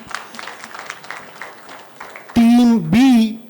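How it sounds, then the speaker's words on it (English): An audience at a quiz finals event claps for a team in a scattered round of applause. A loud, close voice then cuts in over it. "A big round of applause to them."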